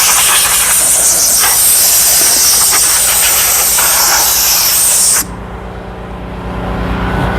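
An air compressor blasts a loud, steady hiss of air across a vehicle in rough condition, the broadband rush running continuously for about five seconds before cutting off abruptly, leaving a low mechanical hum behind.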